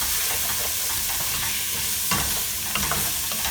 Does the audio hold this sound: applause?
no